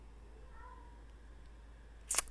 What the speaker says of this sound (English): we continue to have a very angry cat in this house